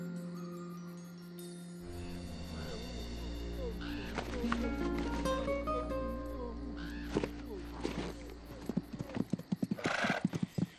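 Horses whinny loudly while hooves clip-clop in a rhythmic run, set in an 1800s-style adventure scene near San Francisco, with music and other noises layered over the hoofbeats.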